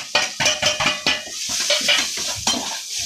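Onions stirred in a pan with salt and turmeric, a spoon scraping and clinking against the metal in quick irregular strokes over a light sizzle, close and fairly loud.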